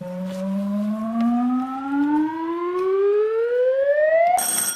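A single loud electronic quiz buzzer tone on a TV panel show rising steadily in pitch for several seconds, ending in a brief burst of harsh noise.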